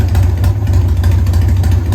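A 1993 Harley-Davidson Softail engine runs loud and close at a steady, throbbing idle while the carburetor is being set up, its low rumble unbroken and heard alone.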